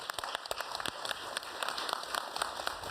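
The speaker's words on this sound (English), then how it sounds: "Can we give that a round of applause?" Audience applause at a trade and poverty-reduction partnership event, a steady spread of many hands clapping at moderate volume, with scattered louder claps throughout and no speech over it.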